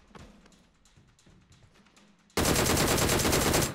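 Gunfire in the mobile shooter game BGMI: a few light, spaced tapping shots, then a sudden loud, sustained burst of rapid automatic fire that fills the last second and a half.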